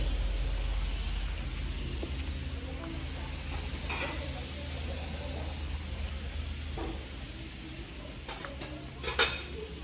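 Ceramic plates and dishes clink sporadically in a shop setting, with scattered light knocks and one sharper clatter near the end over a steady background hum.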